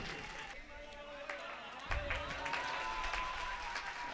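Audience clapping mixed with crowd noise and voices at a Hindi poetry recital, a moderately loud burst of applause in a busy, reverberant space.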